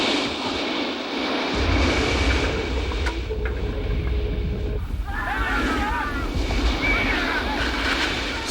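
Stormy sea with roaring wind and crashing waves around a fishing boat caught in a gale near a breakwater, a loud blustery rumble with gusts buffeting the microphone and shouting voices faintly heard amid the noise.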